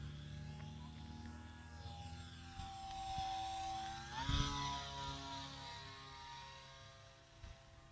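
A small propeller-driven model airplane flies in the rain, its steady engine drone rising in pitch as it passes close around the midpoint, then easing off again.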